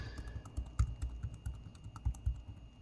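Keys on a Huawei MatePad 11.5 PaperMatte Edition tablet keyboard with Arabic legends are typed in a steady run of soft, close clicks.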